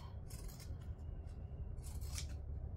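Pinking shears snipping through fabric for a sewing project, two quiet crunching cut strokes close by over a low background hum, no talk.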